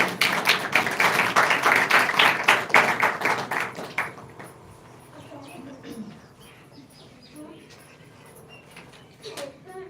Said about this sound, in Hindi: प्रभु की महिमा के लिए हम ताली बजाएंगे।